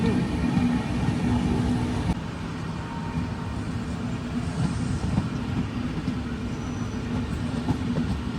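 An express train runs along a forest stretch, heard from inside a general coach second from the engine: a continuous heavy rumble and rattle that stays loud and even throughout, with no clear talk over it.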